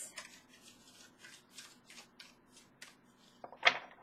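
Soft, rapid riffling of tarot cards repeats in quick bursts, close and quiet, ending with a slightly louder slap of the deck.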